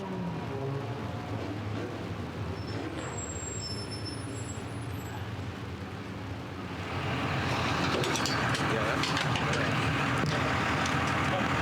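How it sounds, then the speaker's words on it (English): A Hornet class race car rolls up after winning the A main at Evergreen Speedway, its engine a steady low rumble that swells louder partway through, under continuous announcer commentary. "As you see Newbom bring his car up"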